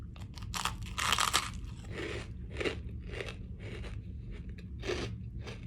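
Close, loud crunching and chewing on a crisp snack like garlic bread, spread with butter and sprinkled with sugar, in repeated bites with short gaps between them.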